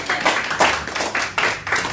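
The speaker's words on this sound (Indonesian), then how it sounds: "Tepuk tangan dong sungguh-sungguh." A church congregation at a Sunday service in Depok claps together in a loose, steady rhythm, a few sharp bursts each second, close and fairly loud.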